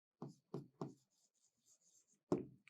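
Pen or pencil writing by hand on paper, three quick scratchy strokes followed by a pause and another firm stroke, close and isolated in a quiet room.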